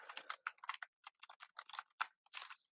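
Quick bursts of typing on a computer keyboard, light irregular clicks in short runs with small pauses, close and quiet with no voices.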